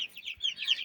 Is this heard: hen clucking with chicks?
yes